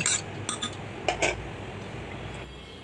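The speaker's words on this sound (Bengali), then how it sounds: "তো এখন আমি ভালো করে নেড়ে নিব।" A spoon stirs a pot of semolina and sago tinted with orange essence and food colouring, giving a few close metallic clinks and scrapes at the start, then fading into a soft, quiet background.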